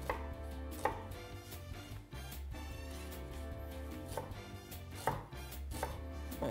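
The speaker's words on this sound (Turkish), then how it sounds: "Kırmızı soğan. İnce ince doğruyoruz." Knife chopping red onion into fine pieces on a board, a busy stream of quick, close taps with a few louder strikes, over steady background music.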